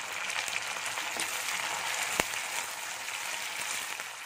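Green chillies and curry leaves fry in oil for lemon pickle, giving a steady close sizzle with one sharp crackle partway through.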